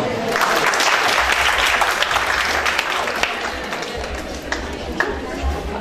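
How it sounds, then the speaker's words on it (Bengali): Loud, sustained applause from a crowd at a dental college batch day event in Dhaka, dense continuous clapping lasting several seconds with crowd voices mixed in. "সকলের কাছে একটি জোরদার করতালি অনুরোধ করছি"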